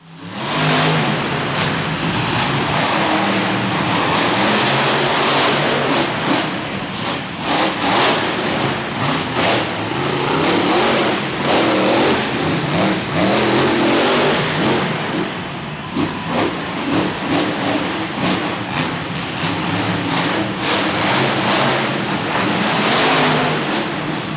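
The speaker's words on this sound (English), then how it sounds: "let's watch some real monster trucks jumping over cars and doing flips" Monster truck engines rev and roar loudly and continuously while the trucks jump over cars, with rising and falling throttle bursts filling the whole stretch.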